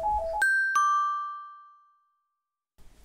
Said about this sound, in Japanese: ピンポン鳴った。